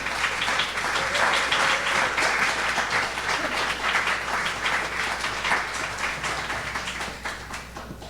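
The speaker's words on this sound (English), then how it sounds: "Please give a round of applause for our first reader" Audience applause for a poetry reader at a literary reading, sustained dense clapping from a crowd that fades slightly toward the end.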